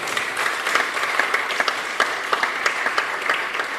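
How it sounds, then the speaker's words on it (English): An audience applauds at a tenth birthday celebration for a local news outlet, sustained clapping with distinct individual claps standing out near the front. "Big round of applause."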